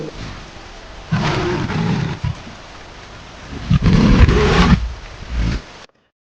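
A hungry cartoon tiger in a jungle lets out two loud, close, drawn-out roars separated by a short pause, with nothing else heard around them.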